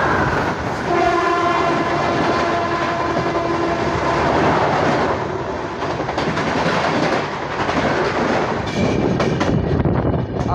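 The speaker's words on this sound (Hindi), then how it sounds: "2 मिनट के हॉल्ट के बाद हमारी ट्रेन जो है निकल चुकी है" The Sachkhand Express, hauled by a diesel locomotive, pulls out of Chalisgaon railway station with a loud sustained horn blast over the rumble and clatter of the moving carriages, heard close and continuous.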